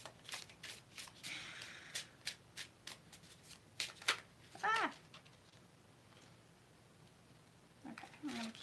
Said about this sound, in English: Okay, I'm going to keep shuffling.